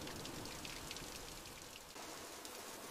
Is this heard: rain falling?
yes